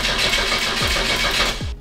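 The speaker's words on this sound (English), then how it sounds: "At least the engine turns over." A Ferrari engine cranks with throttle applied, a steady loud churning of the starter and engine filling the clip, with two sweeping dips in pitch, then a sudden cutoff near the end.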